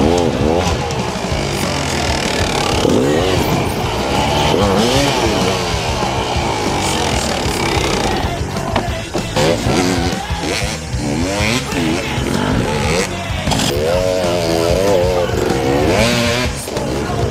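Enduro motorcycle engine revving hard with rising and falling throttle sweeps, loud and close, amid outdoor riding noise in Gryfice.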